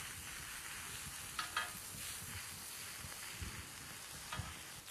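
Vegetables sizzling on a hot plancha griddle, a steady faint hiss of frying with a few soft scraping stirs, no voices.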